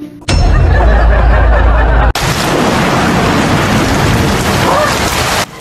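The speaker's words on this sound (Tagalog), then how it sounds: "Hala, ang lakas ng ulan" Heavy rain pours down in a loud, dense, continuous roar, rising abruptly after a brief opening moment and staying steady throughout.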